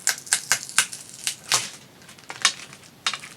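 Scissors snip and scrape at tape on a cardboard package, making a quick series of sharp, crisp clicks and rustling crackles up close, with short pauses between bursts.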